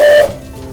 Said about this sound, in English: steam is going up to the whistle and making the sound